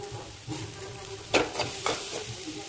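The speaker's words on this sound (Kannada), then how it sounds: "ಸ್ಟವ್ ಲೋ ಫ್ಲೇಮಲ್ಲಿಟ್ಟು ಸ್ವಲ್ಪ ಫ್ರೈ ಆಗೋದು ಬಿಡಬೇಕು" A masala mixture sizzles softly in a pan on low flame while a spoon stirs it, with a few louder scraping strokes standing out over the steady fry. No one speaks.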